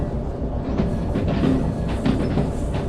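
A locomotive in the Derail Valley VR train simulator backs slowly into a siding near a steel mill, with a steady low rumble and faint rhythmic clanks and clicks of wheels and couplings.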